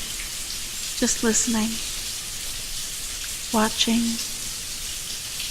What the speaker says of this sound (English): Have you ever just sat down and watched the rain, not thinking about anything in particular,